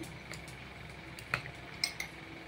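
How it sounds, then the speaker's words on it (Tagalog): Banana blossom salad being tossed with metal utensils in a bowl, light scraping and two distinct clinks, quiet and close with no speech. "Yan na, haluin na natin ulit."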